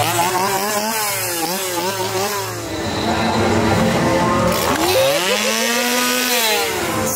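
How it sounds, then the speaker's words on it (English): Several chainsaws roar and rev at once at Universal Orlando's Halloween Horror Nights, engines rising and falling in pitch in repeated whining surges, loud and close. "So many chainsaws, so little time."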